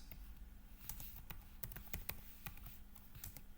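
Keys clatter steadily on a computer keyboard as a code comment is typed for an FPGA graphics project, a quick run of close, crisp clicks with no talking.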